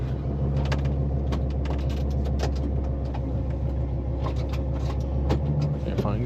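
An old truck's engine drones steadily while driving, a low continuous rumble with some mechanical rattles, close and constant throughout, with faint voices now and then.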